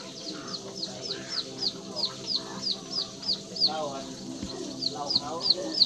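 Chickens cluck around a wooden village coop on a morning in Ban Na Bua, Xepon, Savannakhet, while high, rhythmic chirps repeat steadily in the background.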